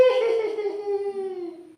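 A human voice imitates a ghostly woman's shrill laughter heard in a hillside forest in Gua Musang, Kelantan, giving one drawn-out wavering high wail that slowly falls in pitch and fades, close and alone.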